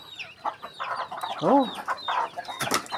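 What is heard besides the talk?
chickens clucking on a farm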